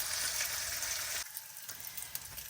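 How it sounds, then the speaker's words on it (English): Thick bacon fries on medium to medium-low heat in a pan, a bright crackling sizzle that drops suddenly to a quieter, sparser spatter partway through. "I'm cooking my bacon on a medium to medium-low heat"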